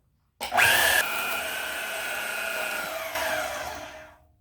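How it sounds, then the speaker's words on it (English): A bandsaw cuts through a stainless steel braided radiator hose, starting abruptly with a loud, steady high-pitched whine and grinding that holds for about three seconds, then shifts pitch and winds down at the end. "You can use a hacksaw, but I'm going to use my bandsaw."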